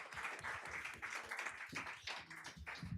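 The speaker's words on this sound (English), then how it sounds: "Please, a final round of applause." Audience applause at a conference session on sustainable international travel, a steady patter of many hands clapping for about three seconds, fairly quiet and continuous, with no talking.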